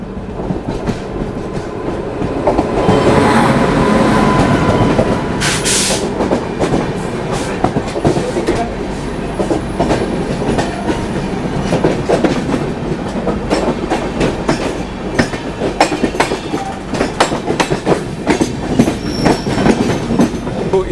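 A Rajdhani Express passenger train slowing on rails near Igatpuri, heard from inside a first-class AC coach: steady loud rumble with clickety-clack wheel beats and occasional squeals, no voices.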